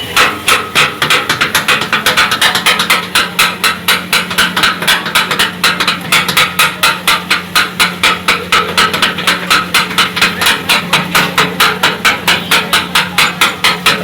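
Metal spatulas chop vegetarian kothu parotta with masala on a hot griddle, giving a fast, steady run of sharp clanging strikes that continues unbroken and close up.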